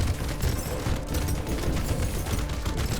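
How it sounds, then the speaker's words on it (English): Dense, rumbling bursts of rapid explosive fire from a rocket launcher in the arcade game Brotato, continuous and loud with overlapping booms and crackle throughout. "so now we have a rocket launcher"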